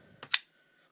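A Kershaw Blur pocket knife with ambidextrous thumb studs is flicked open with a finger, giving two quick, sharp mechanical clicks close by, the second louder, followed by quiet.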